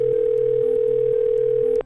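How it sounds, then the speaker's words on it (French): A steady telephone dial tone hums continuously as someone dials a lawyer's number, with faint dialing clicks beneath it, then cuts off abruptly just before the end. "il s'empare de son téléphone et compose le numéro de son avocate"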